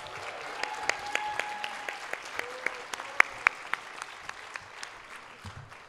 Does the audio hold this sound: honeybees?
no